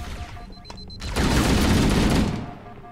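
Gunfire in the shooter video game Halo: Combat Evolved, a loud close burst of rapid shots swelling into a dense roar for about a second before fading, with faint voice-like sounds beforehand.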